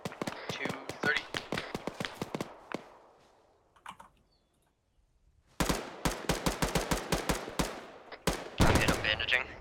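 Rapid bursts of automatic gunfire in Arma 3, sharp cracks in quick strings with a short quiet pause before heavier, louder volleys resume, some shots echoing from a distance.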